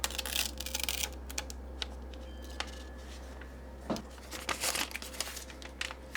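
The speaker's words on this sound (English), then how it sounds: "Okay, we'll pull that tape off now." Masking tape peels away from an acrylic painting in crackly, uneven tearing bursts, close and fairly quiet over a low steady hum.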